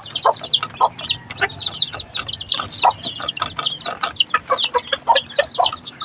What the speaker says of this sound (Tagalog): Yung mga sisiw. Minsan tandang puti. Yung inahin.